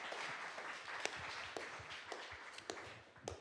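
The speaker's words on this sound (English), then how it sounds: "Feel free to applaud." Applause from a conference audience at the Akademy 2025 event, a soft, fairly distant patter of clapping with a few sharper individual claps standing out, brief and fading toward the end.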